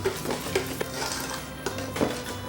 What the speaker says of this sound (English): I just want to whisk it till it's nice and blended together, creamy